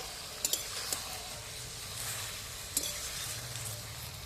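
Elephant foot yam stalks sauté in plenty of oil, a steady close sizzle running throughout, with a spoon scraping and stirring and a few sharp clicks against the pan.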